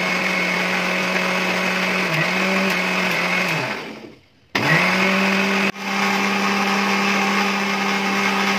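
A mixer grinder churns cream to make butter, its motor whirring in a loud, steady high drone that winds down and stops briefly, then restarts with a jolt and a second short cut before running on.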